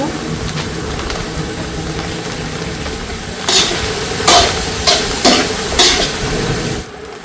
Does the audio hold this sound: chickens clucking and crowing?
no